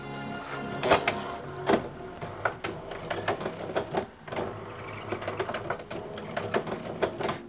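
An HP Deskjet F4172 inkjet printer with a refilled, fairly dried-out black cartridge runs close up, giving irregular mechanical clicks, clunks and short whirring carriage passes over several seconds.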